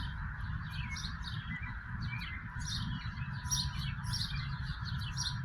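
Pet bird chirping indoors, a series of quick, bright tweets repeating throughout over a steady low background hum, fairly close and moderately loud, with no talk.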